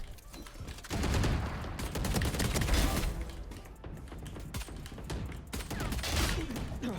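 Rapid, loud gunfire bursts from the Valorant video game crackle almost nonstop at close range, with clattering shots overlapping throughout.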